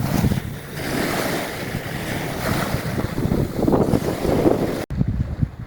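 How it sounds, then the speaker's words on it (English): A water taxi boat heads in toward shore near Great Keppel Island, its approach blending into a steady rush of wind and surf that fills the clip without a break. "Here's my personal water taxi coming to get me."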